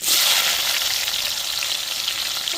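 Chopped onions hit hot oil already holding fenugreek seeds and curry leaves for a fish curry, giving a loud, dense, continuous sizzle close by with no voices.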